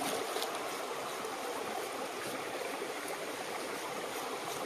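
Water running and splashing steadily while a pig leg is rinsed for a village-style curry, a continuous close rushing wash with no pauses and no voices.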